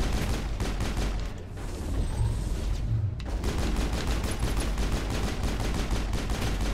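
Rapid sustained gunfire strafing in the Mass Effect video game, dense repeated shots in a steady automatic rhythm, loud and close, with a brief lull midway before the firing resumes.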